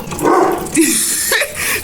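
A dog barks close and loud, a few sharp yips and barks in quick succession with a brief whimpering edge.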